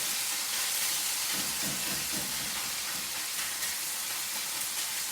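Velveted chicken frying in a hot wok, a steady, loud, even sizzle and hiss that runs unbroken throughout with no talking.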